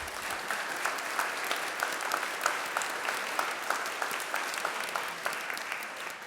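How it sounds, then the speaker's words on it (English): A church congregation at a Lutheran congregational meeting claps together in a sustained, even round of applause, many hands blending into a steady patter with a faint rhythmic pulse throughout. "And yeah, let's clap."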